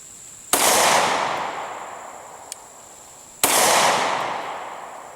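Two sharp, loud gunshots from a Glock 27 pistol firing HST and Gold Dot rounds outdoors in hot, humid weather, spaced about three seconds apart, each with a long decaying echo, plus a faint click between them.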